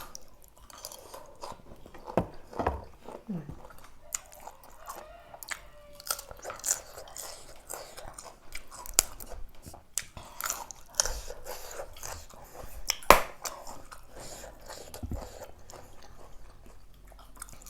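Someone eating crunchy vegetable stems, with repeated close bites and moist crunching chews in an irregular rhythm, loud and near, with no talking.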